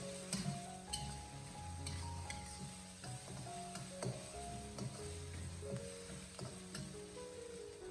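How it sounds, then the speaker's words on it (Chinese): Minced pork stir-fries with ginger, scallion and garlic over medium heat, giving a constant sizzle. Repeated spatula scrapes and clinks against the wok mix with a faint tonal music bed throughout. "将它不停的翻炒，把姜葱蒜炒出香味"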